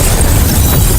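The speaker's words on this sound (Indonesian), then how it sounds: "Ledakan besar mengguncang panti asuhan." A large explosion in a dramatized story, a detonator blowing up an orphanage, heard as a loud, continuous roaring blast heavy in deep rumble that saturates the whole short burst.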